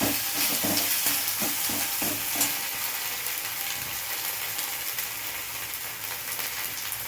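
Ginger and fennel paste fries in hot oil and is stirred, giving a steady broadband sizzle with a few scraping stirs near the start, moderately loud and with no voices.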